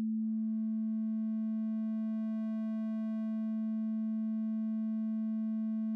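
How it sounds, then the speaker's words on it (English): A synthesizer tone holds steady as a pure sine wave with faint harmonics from a blended triangle wave, a clean, sustained pitch, alone and moderately quiet. "So as you can hear, at the moment, it's just a basic sine wave. But now we're going to blend that with a triangle."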